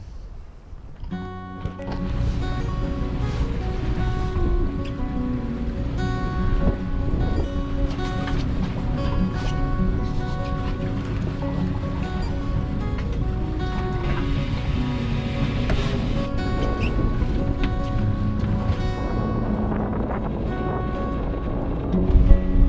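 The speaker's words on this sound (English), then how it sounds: "The wind is pretty fresh. It's about 20-25 knots to the side" A sailboat runs along the inner Norwegian coast in a fresh 20 to 25 knot side wind, giving a loud, steady roar of wind on the microphone mixed with water rush and a constant tonal hum, no talk.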